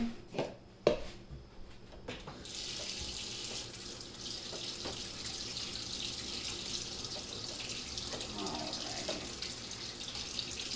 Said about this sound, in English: giving me my hot water